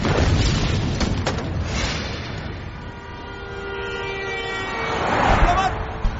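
A deep, loud boom from an explosion in a Hindi-dubbed TV drama opens the clip, followed by a rumbling tail and another swelling blast near the end.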